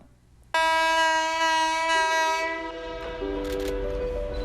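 Horn of a blue ordinary train on Taiwan's South-Link line, a loud sustained chord-like blast that begins abruptly, holds and shifts pitch, with rumbling train running noise beneath and clattering toward the end.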